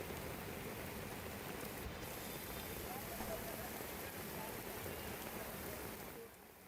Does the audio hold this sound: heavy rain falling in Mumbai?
yes